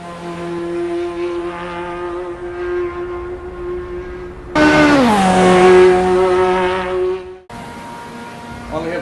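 A Ferrari F40 LM engine in Assetto Corsa EVO drones at high revs, then jumps up with a sharp upshift and falling pitch, followed by another gearchange; loud, near, with strong harmonic whine.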